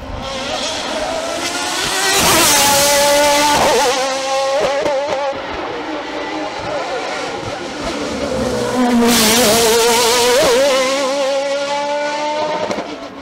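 A Nova Proto NP01 V8 prototype race car climbs a hill-climb course, its loud engine screaming up through rapid gear changes in two bursts as it passes nearby, with faint commentary underneath.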